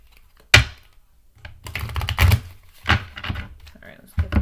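A deck of tarot cards is shuffled in several short, crisp riffling bursts separated by brief pauses, close and fairly loud.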